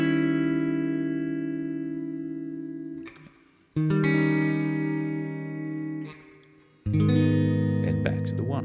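An electric guitar sounds an extended chord, ringing sustained notes that decay before being struck again twice, with a pause between strums, clean tone with some effects, heard alone.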